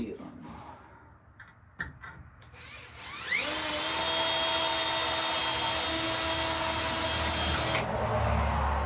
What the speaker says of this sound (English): I got one more screw to go in here. I got to drill.